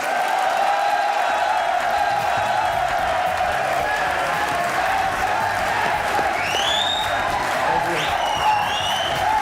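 A studio audience claps steadily and loudly to welcome Pakistani actor Ahsan Khan onto a comedy talk show, a dense wash of applause lasting throughout with a few scattered whistles near the end.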